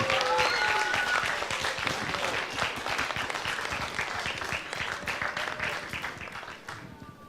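Audience applause for the founder of a young author awards ceremony, a dense, steady roar of many hands clapping throughout, loud at first and slowly thinning toward the end.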